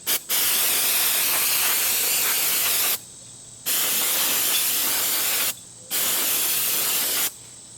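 Brake cleaner sprays from an aerosol can onto M38 Carcano rifle parts outdoors in a yard, three long loud hissing bursts separated by short pauses.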